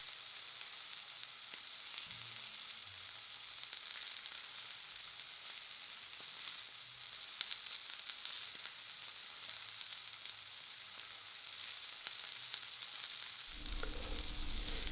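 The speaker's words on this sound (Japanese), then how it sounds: "決して強火にならないようにですね、焦げないように気をつけながら 肉を焼いていきます" A beef tenderloin sears gently in a frying pan over moderate heat, not a strong flame. A soft, steady sizzle runs without a break, with faint scattered pops and a slightly louder rush at the very end.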